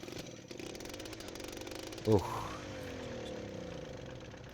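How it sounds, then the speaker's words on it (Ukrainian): A tractor engine starting in Farming Simulator: a low idle, then a sharp cranking burst that catches into a rougher, louder running drone, with a short exclamation from a voice. "Заводимо тракторця."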